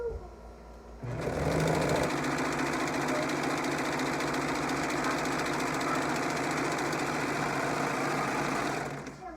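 A sewing machine runs continuously as it stitches a dress shoulder seam, a close, steady, rapid mechanical whir that starts after a brief pause and stops cleanly at the end.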